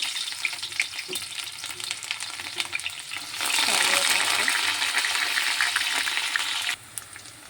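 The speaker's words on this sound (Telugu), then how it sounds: "ముందుగా ఆయిల్ వేసుకొని దానిలో ఆవాలు జీలకర్ర ఆనియన్స్" Mustard seeds, cumin and onions fry in oil in a pan, with a steady crackling sizzle that swells louder midway and then drops off abruptly near the end.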